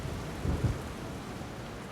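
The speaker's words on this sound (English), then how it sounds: "I can tell that thunder's on the way." Low thunder rumbles through a steady rain-like wash during a storm, with a brief louder swell near the middle; no voices.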